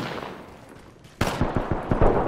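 Gunfire in the Apex Legends battle royale game: after a quieter stretch, a sudden loud burst opens a run of about six sharp, evenly spaced shots, close and punchy over a low background rumble.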